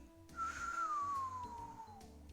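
A single person whistles one long, gliding tone that slowly falls in pitch, clear and fairly close over quiet low background sound.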